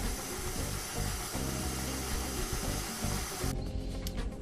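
A stand mixer runs steadily, mixing brioche dough made with sugar, warm milk and yeast, a constant close whirring drone that brightens slightly near the end, with no talking.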